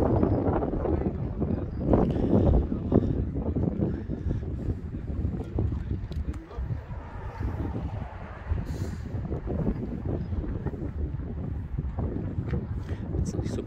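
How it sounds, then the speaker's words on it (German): Strong stormy wind in Thuringia buffets an outdoor microphone beside a 2021 BMW 4 Series convertible, making loud, continuous low rumbling gusts and crackles that rise and fall throughout, with someone talking faintly underneath. "Wenn es nicht so blöde windig wäre. Es ist ein Sturm heute hier über Thüringen."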